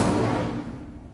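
An Incendio fire spell cast in Hogwarts Legacy, a single loud, rushing fiery whoosh that starts at full strength and fades away within about a second.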